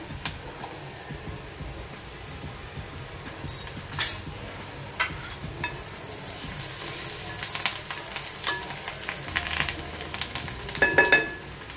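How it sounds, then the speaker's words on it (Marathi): Sliced onions frying in a pan for prawn masala with turmeric stirred in, a steady soft sizzle and crackle with occasional spoon scrapes and taps, close and alone without talk. "कांदा छान परतलेला आहे। आता आपण याच्यामध्ये हळद घालूया"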